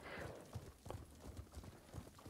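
Horse hooves galloping on a path in the samurai video game Ghost of Tsushima, a steady run of rhythmic clip-clop beats at moderate distance, fairly quiet, heard alone.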